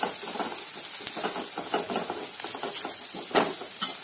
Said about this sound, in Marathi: हळद चांगलं परतून घ्यायचं